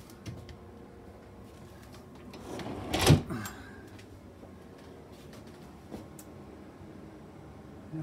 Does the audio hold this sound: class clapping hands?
no